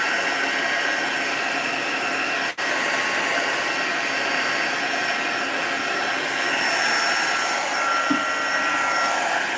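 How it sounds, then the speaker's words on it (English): An air blower pushes alcohol ink across hexagonal tiles, giving a continuous, steady rushing whoosh of air at moderate loudness with a brief dropout and a small click near the end, with no talking. "I try and blow it in the round circular manner so that you can push it in from different angles"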